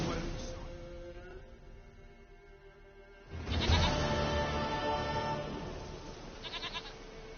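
A goat in The Witcher 3: Wild Hunt gives a bleat, followed by a louder burst of game ambience and a short wavering call near the end.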